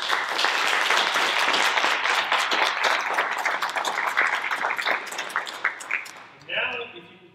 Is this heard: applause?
yes